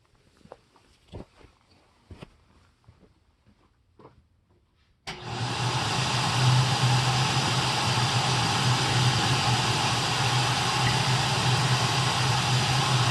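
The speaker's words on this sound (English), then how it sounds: "I'm going to run it with the power nozzle actually not spinning, just so it doesn't make quite a racket." An Electrolux Olympia One vacuum cleaner, refurbished, with its power nozzle attached but not spinning, starts after a few quiet handling clicks and then runs as a loud, steady motor whine and airflow rush to the end.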